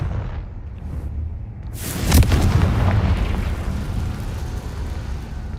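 Confringo spell explosion in the video game Hogwarts Legacy: a single loud, booming blast erupts after a quiet stretch, then a long rumbling decay follows. No talking.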